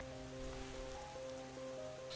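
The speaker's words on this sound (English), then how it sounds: "Don't stand in the rain." Steady rain patters down during a storm in an animated Metal Family episode, a faint continuous hiss under a low sustained musical hum.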